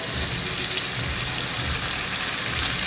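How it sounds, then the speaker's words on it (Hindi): Water poured into a chicken curry cooking on the stove, a steady continuous pouring and splashing sound at moderate loudness with no talking. "पानी थोड़ा सा और डालूंगी।"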